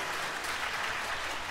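Warm applause from an audience at a junior high school music class's annual recital, as the school principal is welcomed to the stage; steady, dense clapping throughout, moderately distant, with no voices.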